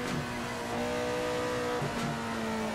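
A Honda racing car of about 100 horsepower drives in Assetto Corsa, its engine droning with a steady, slightly wavering pitch, quiet and alone.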